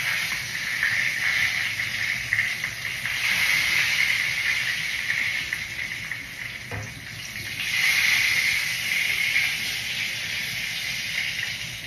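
A pork chop fries in a pan with a steady, loud sizzling hiss that swells and eases slightly throughout, close up with no talking.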